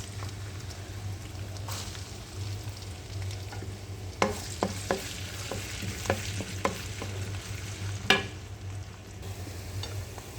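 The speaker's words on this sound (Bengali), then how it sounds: "এই তো পেঁয়াজটা একটু ভাজা হোক" Onions frying in a pan crackle in a steady close sizzle over a low hum, with a run of sharp spatula scrapes and taps against the pan.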